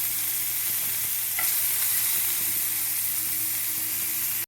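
Washed pumpkin seeds frying in hot oil in a frying pan, giving a steady close hiss with occasional light pops and a faint low hum beneath; no one speaks.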